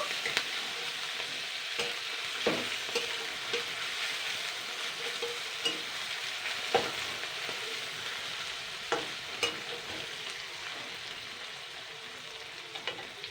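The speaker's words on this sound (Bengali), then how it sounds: "মাছের তেলটা এর সঙ্গে সুন্দর করে ভেজে নেব" Fish oil frying with onions in a pan for a taro-leaf (kochu shak) dish: a steady close sizzle runs throughout, broken by scattered spoon scrapes and light clicks of stirring, with no talking.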